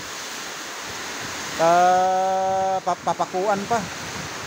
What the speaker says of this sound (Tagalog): So, ang lakas pa ng hangin guys. Yan oh. Lumakas na naman.